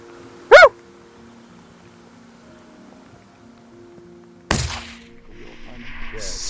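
A single sharp rifle gunshot cracks out loud and close during a moose hunt, followed by a quiet stretch and then a second heavy thump that fades into rustling.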